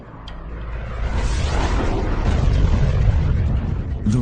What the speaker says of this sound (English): The relentless bombardment destroys the new planet's crust almost as soon as it forms.